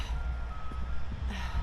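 A gritting truck's reversing alarm beeps steadily at a distance over a low rumbling engine drone, fairly faint and partly masked by broadband outdoor noise.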